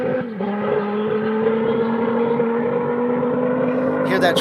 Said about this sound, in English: Hear that traction control working.